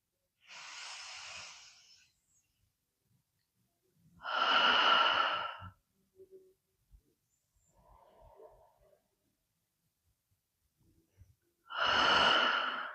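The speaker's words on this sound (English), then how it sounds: "We'll close the practice with 3 deep cleansing breaths." Three deep breaths closing a yoga practice, each a long airy inhale through the nose, close and clear, separated by quiet pauses with a few faint soft exhalations between them.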